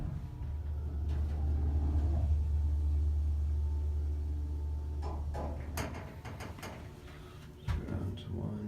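A vintage 1976 Dover oildraulic elevator's motor hums with a steady low rumble for several seconds, then fades into clunks and mechanical clicks of the car and doors, with a brief voice near the end.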